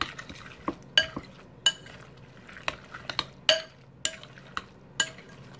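Shrimp cake mixture being mixed with mayo in a bowl, giving irregular scraping and clinking utensil strokes against the dish, fairly close and moderately quiet, with no talking.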